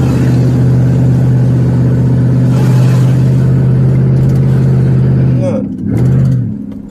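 A car engine runs loud and steady as the driver flees a police traffic stop, the low drone holding close before surging and fading away near the end, with voices speaking over it.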